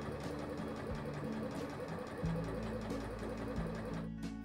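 A sewing machine stitches a poplin sleeve hem with a fast, steady mechanical whirr that pauses briefly and then resumes, close by and without talking.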